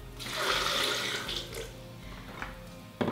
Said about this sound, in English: put some water in it